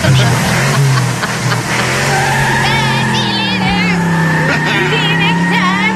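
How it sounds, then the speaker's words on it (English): Tires screech in a long, sustained squeal with rising and bending pitch as a car engine roars close by, loud throughout. "I didn't see that, but I did hear tire screech."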